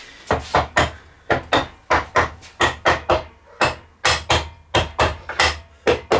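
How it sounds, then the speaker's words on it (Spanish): A steady series of sharp, sturdy knocks, about two per second with brief pauses, a nylon mallet tapping parts while assembling a Vespa engine, close and fairly loud. "Y aquí un martillito nylon."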